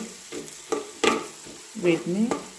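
Onions and drumsticks frying in a pan for an egg and drumstick curry, with a soft steady sizzle broken by several loud scraping stir strokes, close by, and no talking.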